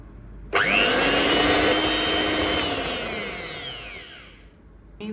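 An electric mixer is switched on to beat butter and sugar for butter cookies. Its motor starts abruptly and gives a loud, close, steady whir that sags slowly in pitch, then cuts off near the end.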